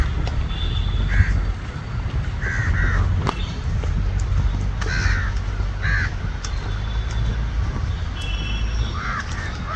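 Hundreds of crows caw at a feeding spot on Halasuru Lake in Bengaluru, where a man brings food for the birds. Repeated harsh caws rise from a moderately distant flock over constant outdoor background noise.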